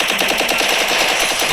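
Rapid automatic gunfire in the mobile game Free Fire, a loud, close, unbroken burst of evenly spaced shots rattling for over a second.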